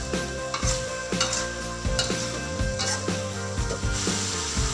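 Tempe being dried in a frying pan sizzles steadily under repeated stirring and scraping strokes from a utensil, close and moderately loud.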